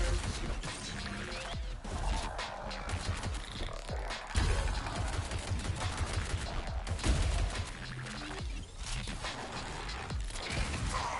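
Rapid rifle gunfire from the video game Arcadegeddon, a dense, continuous stream of shots and mechanical clatter that stays loud and busy throughout, with a few heavier bursts.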